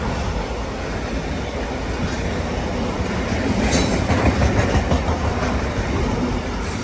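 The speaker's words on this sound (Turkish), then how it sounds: "Tekrar anlatacağım bir tren gitsin." A train rolls past close by at night in Pratteln, Switzerland, a steady rumble of wheels on rails with a brief metallic squeal midway.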